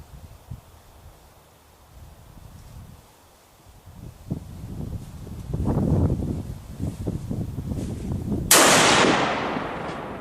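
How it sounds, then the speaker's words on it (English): A left-handed Browning X-Bolt Medallion .30-06 hunting rifle fires a single loud, sharp shot near the end, following quiet rustling and handling noises outdoors. "Because I'm shooting a left-handed gun."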